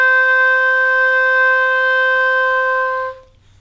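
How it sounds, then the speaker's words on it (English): A clarinet holds a single clear, bright high note, likely the upper D reached by adding the thumb key, sustained steadily for about three seconds before cutting off. No voices are heard. "121 has you go from a low G up to a high D just by adding the thumb."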